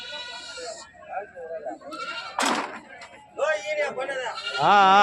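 Several sheep bleat in wavering, tremulous calls, loud and close, with people talking nearby amid a busy outdoor crowd at the Gudur sheep market.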